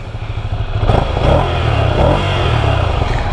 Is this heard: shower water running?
no